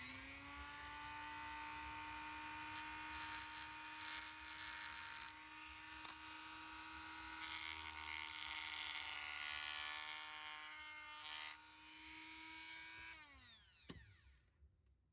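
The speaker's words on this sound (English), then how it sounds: "all that's cut with the Dremel" A Dremel rotary tool cuts through Game Boy Color plastic shell, a loud steady high-pitched whine lasting over ten seconds with shifting grinding texture as it bites, then spinning down and stopping near the end.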